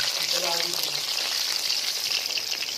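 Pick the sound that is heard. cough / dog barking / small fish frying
small fish frying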